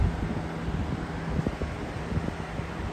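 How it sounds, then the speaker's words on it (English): A 20-inch black Comfort Zone box fan runs at full power, giving a steady, close rush of moving air with a low hum and no speech. "It looks like you guys can hear the wind stream."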